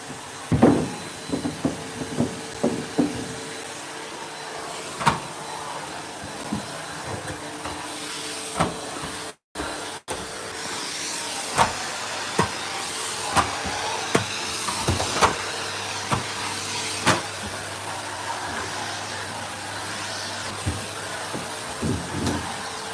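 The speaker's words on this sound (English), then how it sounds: "So I'm going to hoover, guys." A Henry vacuum cleaner hoovers indoors with a steady, close, hissing drone, broken by repeated knocks and bumps as it moves around, and one brief cut-out midway.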